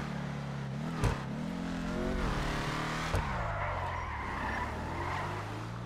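A Ford Mustang Saleen S281-E in GTA 5 revs hard with an aggressive engine note, with long tire squeals and skids. Two sharp knocks punctuate the sound, and the car stays close and loud throughout.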